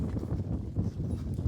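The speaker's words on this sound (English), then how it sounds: "And now the horse gonna be walking on that left ridge or the left furrow." A working horse walks along a field furrow pulling a Kassine farm unit at a horse-farming demonstration event. Its hooves thud in a steady, close clip-clop over a low rumble.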